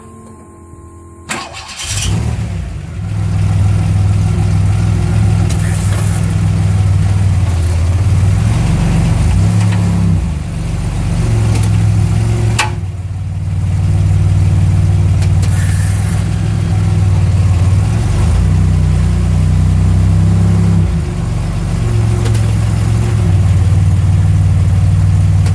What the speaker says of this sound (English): we're gonna go ahead and start the car now